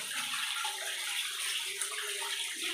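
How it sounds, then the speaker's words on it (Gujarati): River water of the Sabarmati flowing at Sapteshwar Mahadev temple, a continuous bright rushing wash that holds steady throughout, fairly close and with no voices over it. "જો પાણી આવી રહ્યું છે"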